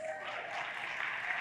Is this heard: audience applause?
yes